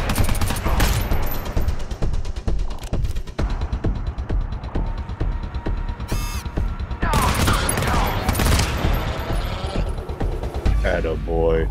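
Rapid gunfire from weapons in the co-op shooter GTFO, loud bursts of automatic fire and sharp single shots with mechanical clicks, coming in clusters over several seconds, with players talking over the shooting.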